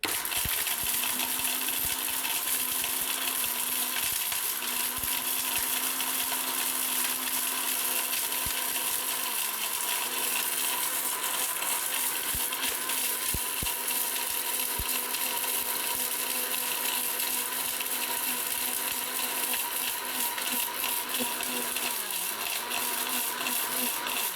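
An ORPAT blender grinding turmeric: a steady, loud, continuous motor whine with a gritty rattle of the dry turmeric against the blades, running unbroken the whole time with no talk.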